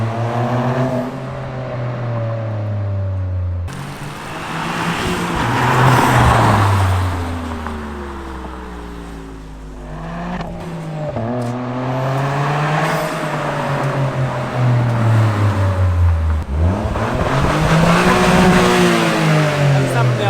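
A wide-body GR car's engine revs hard again and again, its pitch climbing and falling in long sweeping pulls, loud and close throughout, with people talking over it.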